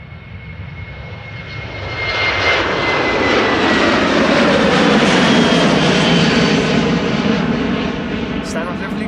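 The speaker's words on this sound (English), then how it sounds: "Here in the foreground, narrow-body departure." A KLM Boeing 737-700 narrow-body jet departs Amsterdam Schiphol, its engine roar swelling from a distant whine to a loud, broad sustained rush that peaks mid-pass and slowly eases as the aircraft moves off.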